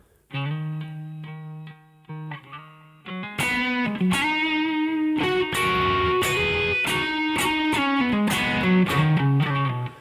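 Electric guitar with heavy tube-amp overdrive, starting with light single notes and chords, then digging in to thicker, crunchier distorted chords that ring loudly.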